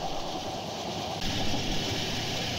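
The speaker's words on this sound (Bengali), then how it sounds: "ব্রডগেজ ট্রেনে থাকলে তো কথাই নাই, একটা আলাদা রকম ভাইব্রেশন, একটা আলাদা রকম সাউন্ড এবং স্মুথনেস ফিল করবেন" A broad gauge Burimari Express train runs steadily on its rails, a dense continuous rumble and rush from on board, growing slightly louder partway through.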